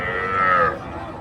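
A calf at a cattle market gives one loud, close moo lasting under a second, followed by quieter background murmur.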